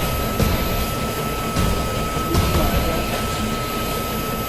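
Prototype aircraft engines roaring at takeoff power, a sustained loud broadband rumble with periodic swells, heard from nearby with no talk.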